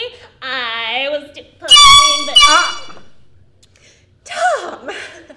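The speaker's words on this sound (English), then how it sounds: "I thought we agreed no air horn this week." Air horn blasts on a live comedy show: two loud, harsh honks close together, followed by a fainter wavering one after a short gap, with no speech over them.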